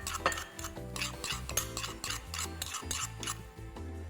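Garlic being crushed for an oven-baked cauliflower dish: repeated rasping, rubbing strokes in an uneven rhythm, close and fairly quiet, with no talking.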